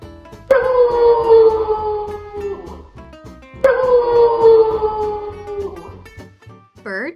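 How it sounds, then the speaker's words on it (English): Two long, mournful wolf howls, each starting strong and slowly falling in pitch, followed by a brief higher yelp at the end. "Wolf."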